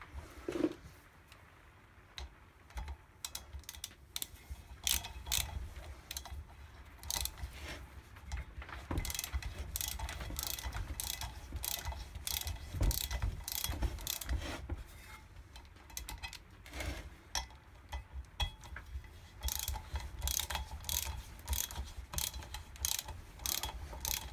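A socket ratchet tightens the front disc brake bolts on a Viva HC coupe wide-arch project car: fairly quiet bursts of rapid, sharp clicking repeat steadily through the clip with short pauses between strokes, and no one speaks.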